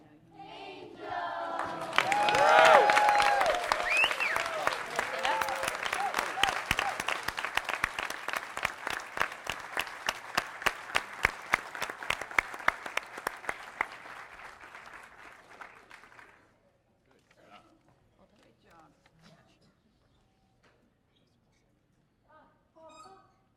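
An audience at a fitness council meeting applauds after performances, a dense burst of clapping that gradually thins into scattered individual claps before fading to quiet.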